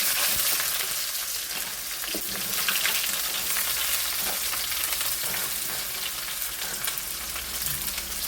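Onions frying in oil in a pan with fenugreek and fennel seeds, a dense, steady hiss and crackle with faint stirring scrapes, continuous and close without any talk.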